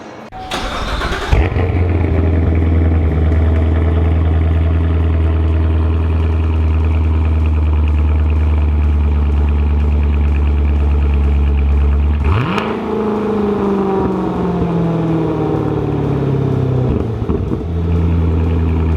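A Corvette C7 with a Borla exhaust fires up with a sharp crack, then settles into a loud, deep, steady idle. About ten seconds later a hard rev swells and slowly falls back to a rumbling idle.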